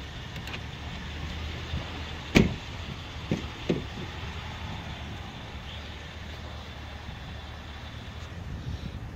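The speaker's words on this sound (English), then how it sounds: "Help if I unlock the doors." A 2008 Dodge Ram SLT pickup is unlocked and its doors opened, with one sharp lock clunk followed by two softer latch clicks against a steady low background rumble.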